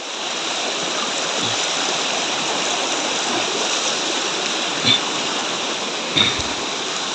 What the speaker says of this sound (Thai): ดูน้ำไหลแรงมากเลย